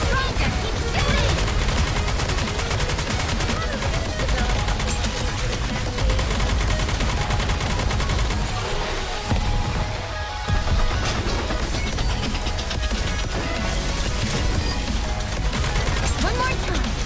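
Dense, continuous gunfire from the Nikke video game, with rapid bursts and volleys layered over game sounds. The volume stays loud and steady throughout, with a brief dip partway through.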